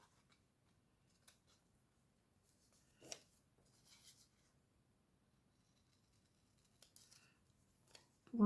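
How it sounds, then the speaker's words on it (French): Paper being cut with scissors for a photo page, a few soft snips and rustles spread out with quiet gaps between them, close by in a hushed room. "Allez, on y va, on découpe."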